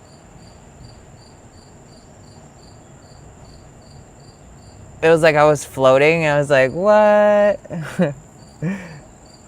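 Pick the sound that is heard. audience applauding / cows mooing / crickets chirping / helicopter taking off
crickets chirping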